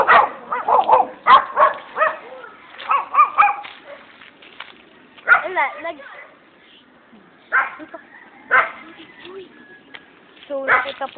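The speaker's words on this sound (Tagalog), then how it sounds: "kaya po tumatahol yung mga aso dahil may nakikita po sila" Several dogs bark in short, loud bursts near the listener. Bursts of yips and whimpers are spread across the stretch, with quieter gaps between them, and people talk among the barking.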